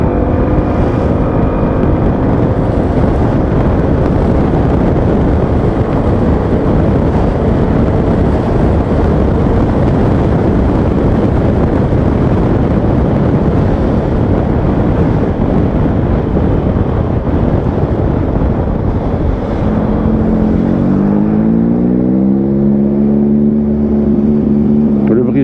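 A Yamaha XMAX 300 scooter rides under heavy wind roar, its engine mostly buried, then a rising engine hum comes through clearly near the end as it accelerates.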